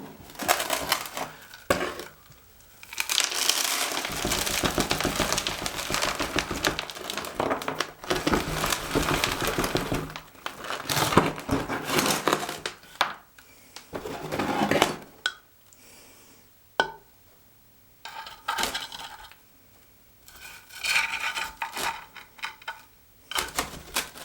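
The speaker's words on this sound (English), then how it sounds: "tilting it to gently shake the substrate out, hoping that I break no roots in the process" Gritty bonsai substrate is shaken and scraped out of a pot as a yamadori olive tree is tilted, giving uneven bursts of crunching and rattling separated by brief quiet gaps.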